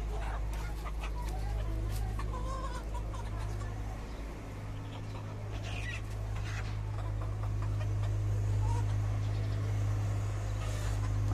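Kaveri breed chickens in a small, crowded backyard coop cluck and call intermittently over a steady low mechanical hum.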